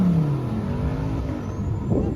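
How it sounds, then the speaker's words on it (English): A V8 engine from an Audi R8 or Lamborghini Huracan at a cars-and-coffee meet, a loud, sustained throaty drone with the pitch sliding downward as the car eases off, close and with no voices. "That's the V8."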